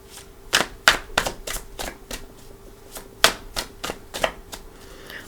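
Tarot cards are shuffled by hand in a series of crisp riffling snaps and flutters, a dozen or so quick bursts at irregular intervals, close and clear with no talking.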